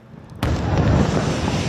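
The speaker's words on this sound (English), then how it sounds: "Another night of powerful explosions in the southern suburbs of Lebanon's capital," A powerful explosion at night in the southern suburbs of Beirut, Lebanon, hits with a sudden sharp blast and then a deep, sustained rumble that lingers loudly for more than a second.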